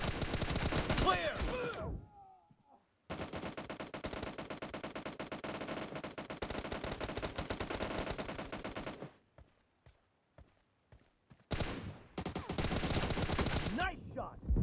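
Rapid machine-gun bursts in the video game PUBG, loud and near, firing in long sustained volleys with a pause around the middle, a few sparse shots, then another dense burst; game voices call out over the shooting.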